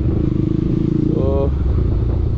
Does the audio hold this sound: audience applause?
no